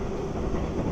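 The Ranggajati passenger train rolls past on the rails with a loud, steady rumble and roar filling the whole short moment, no voices.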